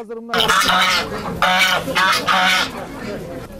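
Poultry at a livestock market call out in loud, repeated honking and quacking bursts, with several overlapping calls filling the clip against a busy background.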